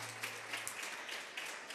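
Students at a school contest between Cortina and Peñalba applaud a team's score with a faint, steady patter of many hands clapping from a distance, with no clear talk over it.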